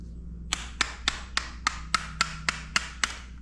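Hammer tapping out the brake pads on a 2009 Harley-Davidson Dyna, ten light metallic knocks at an even, unhurried pace over a low steady hum, close and fairly crisp.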